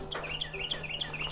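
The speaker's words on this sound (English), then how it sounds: "Oh, I just heard a bird singing." A small bird chirps in short, repeated high notes over a steady low hum, fairly close and moderately loud.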